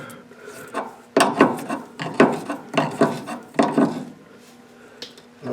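A metric wrench snugging a bolt on the upper control arm of a 1955 Buick, heard as a series of close, rhythmic scraping and ratcheting rasps, about five strokes, loud and alone.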